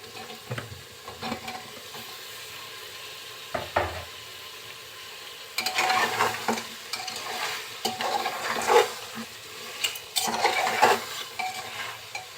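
Braised beef with freshly added new potatoes being stir-fried in a pot, a quieter sizzle first, then louder scraping and clattering of a spoon against the pot as the stirring picks up, close and without voices.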